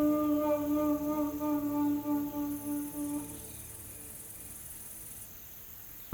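Crickets chirp in the video game The Scroll of Taiwu as a steady, close, high trilling that fades to a faint hum about halfway through, ending in a single sharp click.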